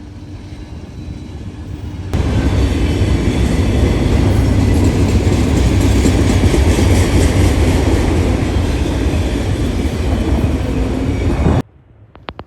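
A heavy freight train with diesel locomotives rumbles past loudly and steadily with a broad roar and faint rhythmic rattling, starting abruptly and cutting off near the end.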